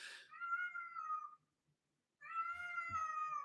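A house cat meows twice, each a clear, close, drawn-out cry with a short silent gap between them and a faint bump under the second one.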